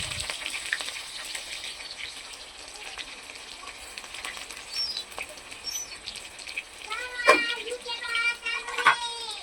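Onion and green chillies fry in oil with whole cumin and bay leaves, a continuous crackling sizzle with occasional louder bursts, while a voice and faint birdsong drift in the background.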